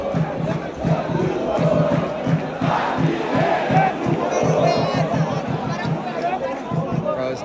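Angry football fans in a stadium chant and shout in a rhythmic, pulsing mass, loud and dense throughout, with crowd noise filling the whole space.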